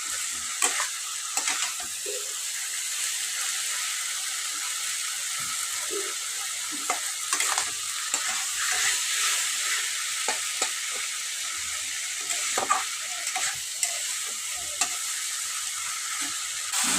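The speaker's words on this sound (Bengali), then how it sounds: "আমি দেখুন ভালো করে কষিয়ে নিচ্ছি, আর 5 মিনিট আমি এটাকে কষাবো, কাঁচা গন্ধটা ছেড়ে যাবে" Spice paste with Malabar spinach seeds sautés in a pan, a soft steady sizzle broken by repeated scraping and stirring strokes of a spoon, close and moderately quiet, with no talking.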